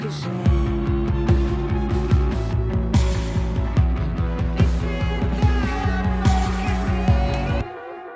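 A punchy, gritty drum loop processed with multiband distortion, with heavy distorted kick and snare hits in a steady driving rhythm, up front and loud.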